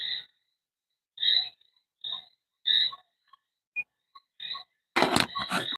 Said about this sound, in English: Crickets, maybe some tree frogs there.